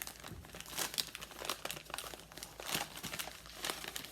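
Paper wrapping with loosened tape crinkles and crumples close by as a wrapped ornament package is opened, in quick irregular rustling bursts at low volume.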